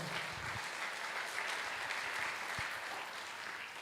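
A church congregation claps in praise to the Lord, a continuous wash of applause at moderate, even loudness throughout, with no voices standing out.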